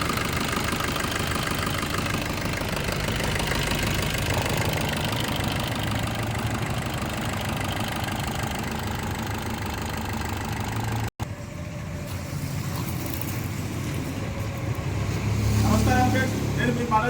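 A 2017 Maruti Swift Dzire ZDI Plus engine idles steadily just after starting, a continuous mid-pitched hum and rumble with a brief break partway through and a voice talking over it.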